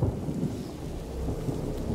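Rain pours steadily while low thunder rumbles in a stormy scene from the video game A Plague Tale: Innocence, heard briefly and without voices.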